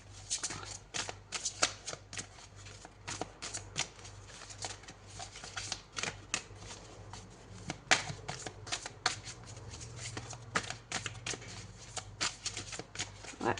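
Tarot cards being shuffled by hand to draw a single card, a steady run of soft riffling and slapping card sounds repeating close by with no talk.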